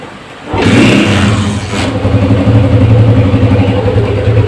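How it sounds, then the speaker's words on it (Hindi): A 1982 Honda CG 125 motorcycle engine starts up and settles into a steady, close idle with a low, even rumble throughout. "ये बाइक मैंने स्टार्ट कर दी है, एक्सीलेटर छोड़ दिया है"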